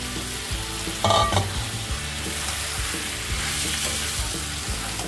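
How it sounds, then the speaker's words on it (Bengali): Snails and potatoes frying in hot oil with spices for a spicy curry, a steady close sizzle with a brief louder burst as ingredients drop in, then continuous crackling and stirring. "তেল ছেড়ে দিয়েছে, এর মধ্যে এবার শামুকটা দিয়ে দেবো, দিয়ে ভালোভাবে মধ্যে আলুটাও দিয়ে দিলাম।"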